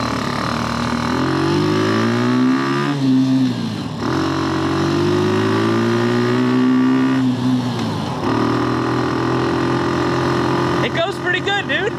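Offroad go-kart engine revving loudly while driving, pitch rising and falling through gear shifts with brief dips when the throttle is let off, continuous and close throughout.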